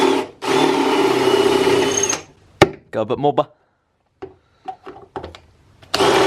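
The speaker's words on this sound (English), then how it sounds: "we're just going to drill them out, drill the rivets out" A power drill whirs at length while drilling out rivets on metal tags in an S13 engine bay, then gives several short stuttering bursts between pauses before revving again; someone talks briefly.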